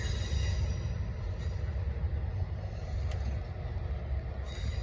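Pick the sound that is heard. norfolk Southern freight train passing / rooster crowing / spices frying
norfolk Southern freight train passing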